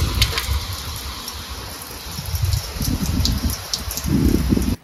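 Heavy rain pours down outside, a dense and continuous hiss of falling water that surges louder toward the end, with no voices over it.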